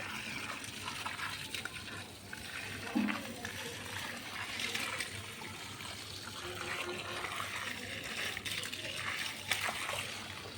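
Water gushes and splashes steadily onto soil and leaves, a continuous pouring wash with a voice faintly in the background.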